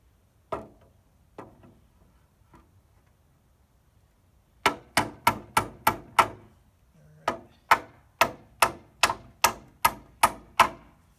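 A big hammer drives nails into greenhouse wall framing on an off-grid build: three sparse knocks, then two quick runs of sharp, evenly spaced, ringing blows, loud and close with no talking.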